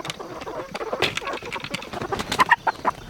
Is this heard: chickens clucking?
yes